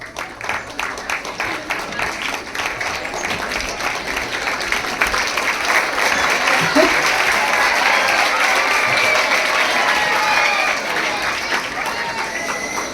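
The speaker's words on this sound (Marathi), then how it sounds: "त्यांच्यासाठी फक्त आपण टाळ्या वाजवूया" An audience at an award ceremony for the poet G. H. Patil, standing for a moment to applaud someone, breaks into sustained, dense clapping that swells slightly and holds steady throughout, a crowded hall of hands with a faint murmur beneath.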